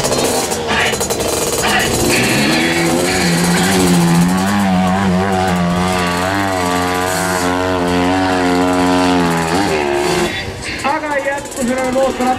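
Motocross motorcycles at a race roar and rev loudly, their engine note climbing and falling, while a commentator talks over the noise throughout.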